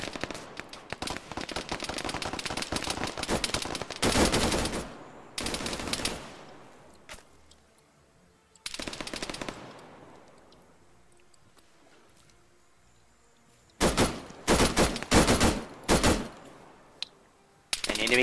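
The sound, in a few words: suppressing gunfire in video game Arma 3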